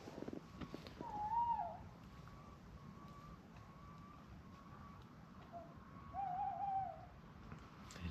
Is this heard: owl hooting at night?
yes